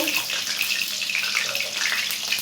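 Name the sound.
water running while washing fish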